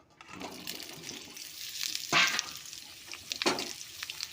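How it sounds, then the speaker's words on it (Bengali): Potatoes frying in mustard oil in a wok, a soft background sizzle broken by a few louder bursts of stirring and crackling, close but quiet. "আমি প্রথমে আলুটাকে লাল লাল করে নুন আর হলুদ দিয়ে ভেজে নেবো"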